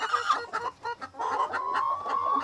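Rhode Island Red hens cluck at close range on a small farm, a run of short choppy clucks followed by a longer drawn-out cackle, with no talk.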